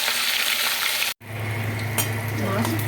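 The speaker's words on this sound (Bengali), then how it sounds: "উল্টে দিয়েছি, দিয়ে আবার মাছগুলো ভেজে নেবো লাল লাল করে।" Pieces of katla fish frying in hot oil in a pan after being flipped, a steady loud sizzle that cuts out for a split second and then carries on with small crackles.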